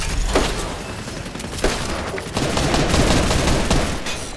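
Gunfire in the video game Fortnite rumbles as a dense, continuous barrage, with a few sharper shots standing out against a heavy, noisy background of in-game action.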